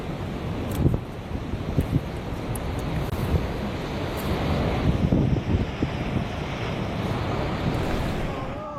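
Huge ocean waves roar at Nazaré, a continuous broadband rush of surf and wind with surges of crashing water, loud and sustained throughout.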